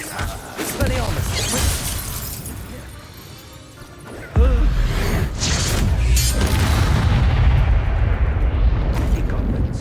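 A spell being cast in Hogwarts Legacy bursts out with a sharp crackling impact and booming blast, loud and close over a dense roaring battle din, with voices shouting amid the chaos.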